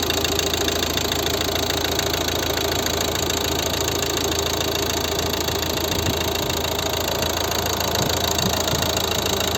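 A 2012 Volvo V50 1.6 diesel engine idles steadily and loudly up close, a continuous rough, knocking drone with no talking.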